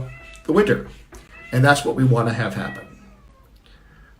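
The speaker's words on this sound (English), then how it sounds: "Pardon the howling cat in the background." A house cat howls and meows insistently indoors, long drawn-out wails rising over someone speaking in the foreground.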